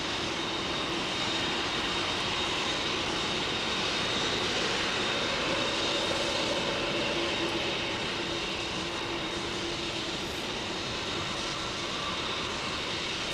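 A Boeing 747 passes close at Heathrow with a steady, moderately quiet jet engine drone, a continuous broadband roar with a faint whine riding on top, no speech.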